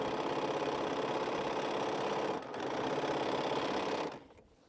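A sewing machine stitches quilt strips in a steady, fast mechanical hum with a rapid needle rhythm, running continuously with a brief dip midway before slowing and stopping near the end, fairly quiet and close.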